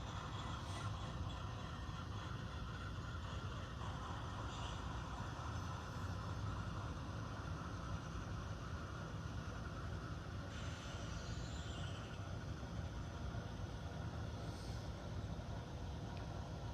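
Long train of custom cars hauled by two locomotives, a steady continuous rolling rumble with faint wheel and coupling clatter throughout, no talking.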